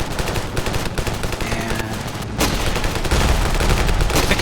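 Gunfire in the video game Ravenfield rattles on without a break, dense automatic bursts and heavy shots that stay loud throughout with no talk.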